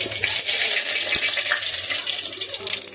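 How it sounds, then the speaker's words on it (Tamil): Mustard seeds sizzle in hot oil in a kadai on the stove, a steady, dense crackling hiss that stays loud and continuous throughout. "இது எண்ணெய் ஊற்றிக்கோங்க, ஒரு கடாய் அடுப்பில் வச்சுக்கோங்க, கடுகு போட்டுக்கோங்க"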